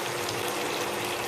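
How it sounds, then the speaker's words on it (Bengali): Water is poured into a cooking pan of frying rooster chicken curry, giving a steady, loud, continuous rushing hiss and gush that lasts the whole moment with no talk. "দিয়ে দেবো পানি"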